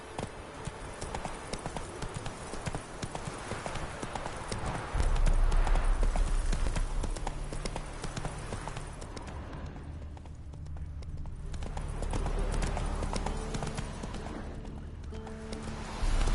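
Geralt's horse Roach galloping in The Witcher 3, a fast continuous drumming of hooves that runs throughout, close and prominent over game ambience and rushing noise.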